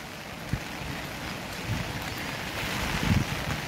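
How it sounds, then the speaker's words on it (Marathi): Heavy rain pouring down outdoors in a steady broadband wash, with a few louder gusts and splashes standing out, no voices. "बघा किती जोरात पाऊस आहे."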